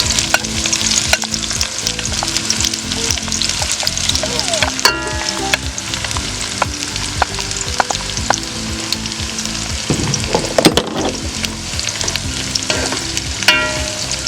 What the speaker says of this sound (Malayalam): അത് ഞാൻ ഇതിലേക്ക് ഈ ഓയിലിലേക്ക് ഇടുന്നു.